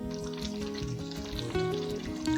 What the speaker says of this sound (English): Pour in all yellow chicken soup you saved for earlier. Bring it to boil.